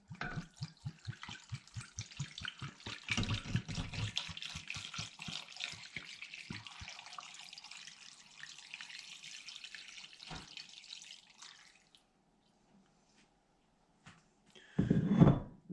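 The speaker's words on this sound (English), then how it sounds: "Then we're going to put in fresh water, just enough to get everything covered." Fresh water poured into a large pot over solids for a bison tongue dish, starting with rapid rhythmic glugging splashes that settle into a steady pour, then a pause before a brief knock of the pot near the end.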